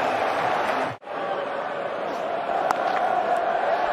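Cricket crowd at The Hundred match between Oval Invincibles and London Spirit cheering a boundary, a steady broad roar with a brief dip before swelling again, filling the stadium.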